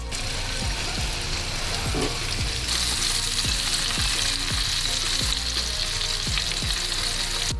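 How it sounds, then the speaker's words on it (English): Steady, dense sizzling and crackling of a leg of lamb slow-roasting in a wood-fired oven, with a continuous hiss and small pops throughout, close and fairly loud. "listen closely as that beautiful sound of roasting fills the air"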